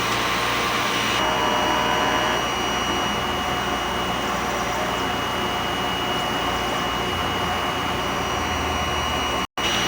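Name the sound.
sublimation printer running head clean cycle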